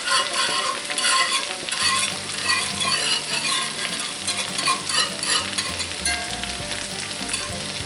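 Melted fat and flour frying and being stirred in a cast iron skillet to start a buttermilk sausage gravy: a constant close sizzle with scraping stir strokes running through it, no talking.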